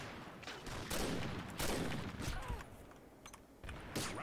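Rapid gunfire bursts in a first-person shooter game during a sniping round, loud and repeated across the whole stretch, with a few sharper single shots standing out near the end.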